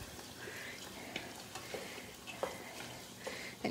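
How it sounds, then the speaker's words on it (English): Sugar snap peas are stirred in a stir-fry pan, soft scraping and shuffling over a low sizzle, with a few light clicks of the utensil against the pan. "So I've got my 2 cups of sugar snap peas. I'll stir those around."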